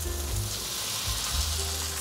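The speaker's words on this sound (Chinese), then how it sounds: "锅内再补一点点油，把香肠放进来煎" Vegan sausage frying in a little oil in a pot gives a steady, close sizzle with a low rumbling undertone and no voices.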